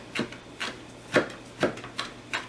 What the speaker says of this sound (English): just chop it roughly